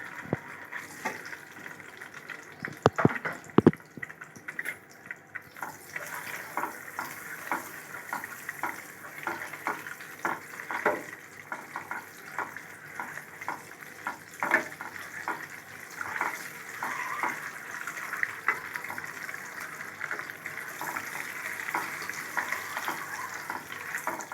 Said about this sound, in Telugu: బాయిల్ అయిన ఎగ్స్ని ఈ విధంగా ఫ్రై చేసుకోవాలి కొంచెం సేపు ఆయిల్లో